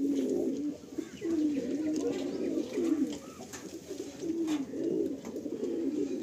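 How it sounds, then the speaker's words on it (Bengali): Giribaz pigeons coo steadily at a Kolkata pigeon sale, soft rolling calls repeating in overlapping bursts close by, with faint background noise and no clear talk. "বাহ, খুব ভালো ভালো গিরিবাজ পায়রা রয়েছে আজকে"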